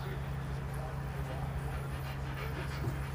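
A puppy panting and faintly whimpering close by, soft breathy rhythm running steadily under a low constant hum for a few seconds.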